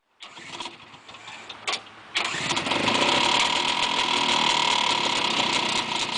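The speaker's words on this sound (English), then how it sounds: "1993 Yamaha FZR-600" A 1993 Yamaha FZR-600 motorcycle cranks with a few short starter bursts, then catches and settles into a loud, steady close-up idle.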